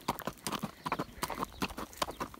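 A ridden horse's hooves clip-clop at a brisk, steady walking rhythm, close and fairly quiet, with a few dozen even strikes and no talking, out in open country while herding sheep.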